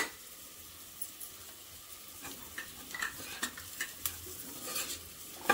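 Dry-ground coconut, coriander and chili masala paste goes into a pan with sautéed tomato and is stirred, producing soft sizzling under a series of sharp spoon scrapes and taps against the pan, close and without speech.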